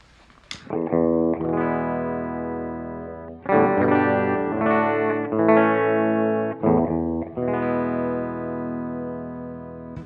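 A clean electric guitar through a Blackstar Dept. 10 Amped 1 pedal on its flat voice plays sustained chords and notes, ringing clearly with little grit, several strummed phrases separated by brief pauses.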